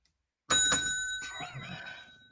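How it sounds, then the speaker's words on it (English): A small bright bell, like a bicycle bell, is struck twice in quick succession. Its clear metallic ring then fades out slowly over about two seconds, heard alone with no talk. "Ring the bell."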